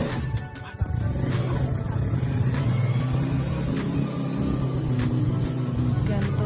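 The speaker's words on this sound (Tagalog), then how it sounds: "Ayan ang tricycle namin." A motor tricycle's engine rumbles steadily close by on a provincial road in Antique, a low throbbing idle with a few sharp knocks, voices faintly under it.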